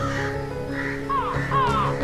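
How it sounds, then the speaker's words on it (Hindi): Crows caw a few times, harsh calls rising over a low background hum with faint voices, brief and moderately near. "अरे ये इतने सारे कौवे कहाँ से आ गए?"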